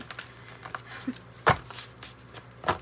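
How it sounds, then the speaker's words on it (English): A deck of tarot cards being shuffled, giving soft papery riffles with a couple of sharper snaps, fairly close and quiet, with no talking. "What's up with this shuffle?"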